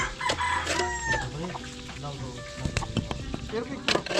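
A rooster crows repeatedly, its calls rising over clucking chickens and other fowl nearby, with people talking in the background throughout.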